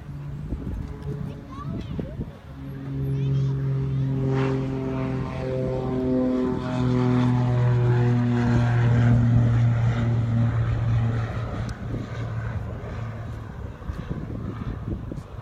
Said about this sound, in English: You can learn so much more about these vintage aircraft.